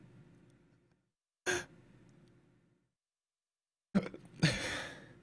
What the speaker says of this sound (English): those hiccups sound...